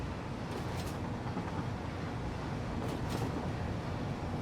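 A train rides along in the factory-building game Satisfactory. A steady, dense rolling rumble holds even throughout, with faint hissing swells near the start and end.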